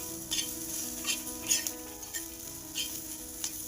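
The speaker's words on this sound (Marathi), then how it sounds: "छानपैकी आपल्याला मसाला भाजायचा आहे हा" Masala spices roasting in hot oil for a black fish curry, a continuous close sizzle broken by repeated short scraping stirs of a spoon in the pan.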